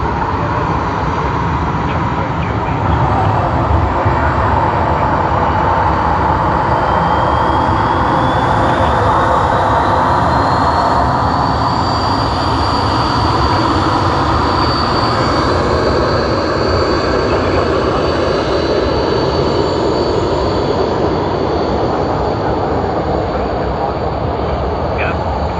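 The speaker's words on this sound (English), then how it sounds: "Vietnam Airlines from Ho Chi Minh City on their beautiful" A Vietnam Airlines Airbus A350-900 jet from Ho Chi Minh City at Sydney Airport gives a loud, steady roar that lasts throughout, with a faint rising whine partway through and voices talking over it.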